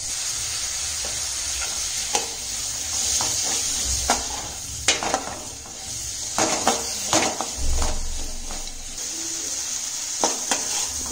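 Tomato and onion sizzle in a pan with salt, a steady frying hiss broken by repeated scraping and clinking as a spatula stirs them, with occasional soft thuds and no talking.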